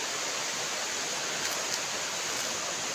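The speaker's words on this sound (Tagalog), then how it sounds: "Yan, ilog yan sa baba." A river flowing below a mountain trail, swollen like a flood after rain upstream, gives a steady, dense rushing roar with no breaks, distant but filling the whole scene.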